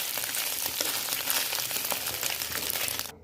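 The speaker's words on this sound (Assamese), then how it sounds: "কাটি লোৱা পনীৰখিনি এটা চাইডে ভাজি লৈছোঁ অলপ মই।" Paneer pieces made from egg frying on one side in oil in a pan give a steady, dense hiss with faint crackles throughout, close and fairly loud, stopping abruptly at the very end.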